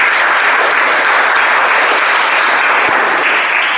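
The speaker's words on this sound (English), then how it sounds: "Can we have a round of applause for Toastmaster?" An audience at a Toastmasters speech-a-thon club meeting applauds in a steady, dense burst of clapping that fills the room, loud and continuous with no voices rising above it.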